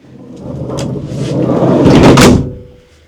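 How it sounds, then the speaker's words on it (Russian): An old van's door slides along its track for a couple of seconds, a rising rolling rumble that ends in a firm close and quickly dies away. "Закроем дверь."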